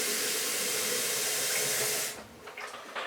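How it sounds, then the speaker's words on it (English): Tap water runs steadily into a jug, filling it for a kettle, a loud continuous hiss and splash for about two seconds before the flow stops and a few faint clinks follow. "Refill my jug."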